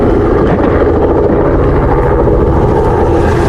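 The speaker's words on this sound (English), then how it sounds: "To Uncle Jerry and Uncle Pete in the chopper." A helicopter carrying people during a rhino relocation drones loud and steady overhead, its rotor roar filling the air without a break.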